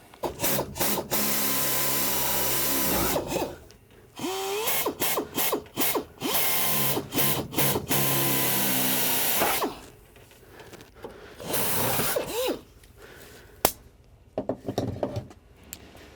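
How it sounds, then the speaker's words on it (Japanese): A pneumatic air saw buzzes loudly in short and long bursts as it cuts into the metal floor panel of a Nissan Skyline 'Hakosuka', stopping and restarting, with brief pauses and clanks between runs. "要はエアでのノコギリなんですけど、それで切り取るんですけど"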